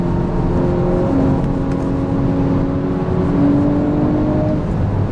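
An Audi RS5 Sportback's turbocharged engine pulls hard under acceleration, heard as a steady, loud, humming drone with a faint whir that holds almost evenly throughout.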